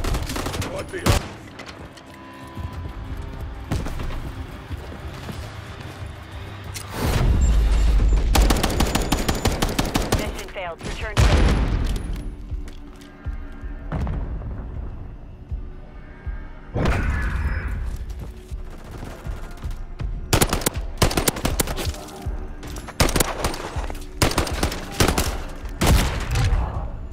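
Gunfire from the video game Call of Duty MW3 rattles in loud, sustained automatic bursts with heavy booms, mixed with mechanical clatter and game voice callouts.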